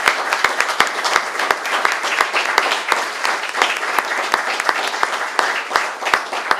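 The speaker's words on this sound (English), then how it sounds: "let's give that a round of applause" Audience applause at a governor's clean water bill signing in Suffolk County: dense, sustained clapping from a room full of people, steady and fairly loud across the whole stretch with sharp individual claps standing out.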